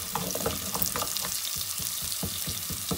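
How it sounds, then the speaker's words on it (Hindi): A steady, close sizzle of garlic-ginger paste frying in hot ghee, with irregular stirring scrapes and small crackles throughout. "इसी घी के अंदर ही लहसुन अदरक का ये पेस्ट डाल देंगे और इसको 5-4 मिनट के लिए भूनेंगे"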